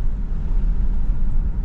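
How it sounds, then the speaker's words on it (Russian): A staff shuttle bus drives into a village near a large canal, its low engine rumble steady and fairly loud for a short stretch, with no talking. "Ого, сюда заехал какой-то автобус"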